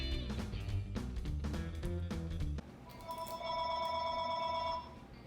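A telephone rings in a kitchen during baking, its electronic tone sounding as steady, repeated tonal bursts after a short stretch of music, loud and clear with no talk over it.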